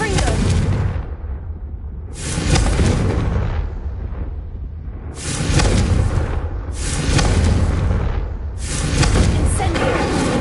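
Confringo spell blasts from Hogwarts Legacy go off as four heavy, booming explosions, each a loud burst that rumbles and decays before the next, with talking underneath.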